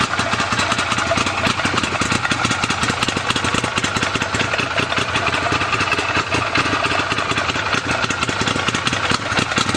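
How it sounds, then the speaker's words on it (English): An Arctic Cat Wildcat side-by-side with a 90-plus horsepower X engine, hotter cam and higher-compression pistons idles steadily and loudly up close. Its lopey, uneven exhaust pulses run continuously for about ten seconds with no talk. "if you know what Wildcats sound like, you can tell that this one definitely has a hotter cam in it"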